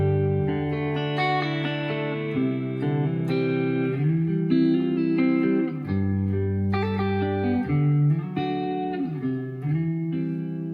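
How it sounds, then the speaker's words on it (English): A clean electric guitar, a Gibson Slash Signature on its neck pickup through a Quad Cortex, plays mellow sustained chords and single notes continuously, warm and round with a light effect shimmer, alone with no talking. "This is just a neck pickup clean tone."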